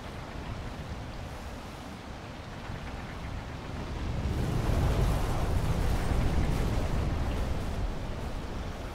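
Steady, endless rain pours over a village in the video game Wild Hearts, a dense continuous hiss that swells louder midway and stays heavy.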